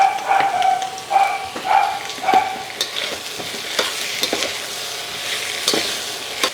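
Shrimp, asparagus and snow peas sautéing in a pan with a splash of sesame oil, a continuous close sizzle with repeated clinks and scrapes of stirring, loud at first then settling, no talking.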